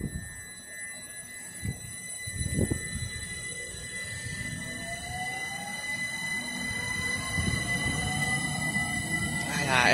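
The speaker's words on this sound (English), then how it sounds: "There's a train now leaves for London Victoria" Train at Southwick station with a low rumble building and rising wheel squeal, faint high tones and a growing roar toward the end, moderately distant.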